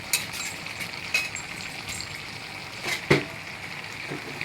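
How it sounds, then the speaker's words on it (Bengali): Potatoes tipped into a pan of chicken curry cooking on the stove: a soft steady simmering bubble with a few small clinks and one sharper knock near the end, no talking. "এখন আমি দিয়ে দেব আলু।"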